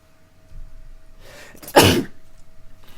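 A single sharp human sneeze bursts out loud and close after a short intake of breath, in an otherwise quiet room.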